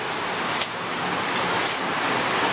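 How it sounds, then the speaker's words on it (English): Rain falls steadily outdoors on a cool, rainy day in the Philippines. A continuous, even wash of rainfall covers the whole stretch, with a couple of brief louder drops or splashes and no talk. "You like the rain, Matthew?"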